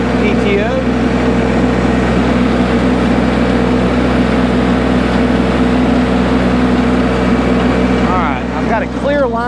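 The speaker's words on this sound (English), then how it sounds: "Go ahead and rev it up to the full 540" A compact tractor running a Baumalight 1P14 stump grinder at full 540 PTO speed gives a loud, steady engine drone with constant machinery hum throughout, and a few faint whistle-like squeals near the end.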